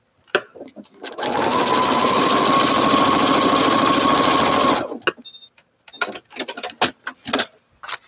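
A sewing machine stitches an appliqué piece of shiny red fabric onto a Christmas quilt block, running in one loud, steady whir for about four seconds, then stopping, followed by small handling clicks and rustles.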